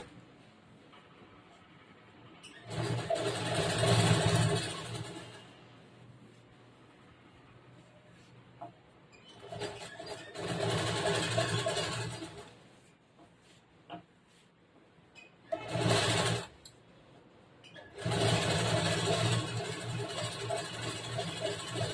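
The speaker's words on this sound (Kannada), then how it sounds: "ಇದ್ರ ಮೇಲೆ ಇನ್ನೊಂದು ಸ್ಟಿಚ್ ಮಾಡಿ" A sewing machine stitches blouse fabric in four separate bursts, each a few seconds long, with a steady close whirring run between quiet pauses.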